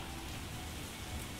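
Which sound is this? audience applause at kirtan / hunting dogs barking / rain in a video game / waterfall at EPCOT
rain in a video game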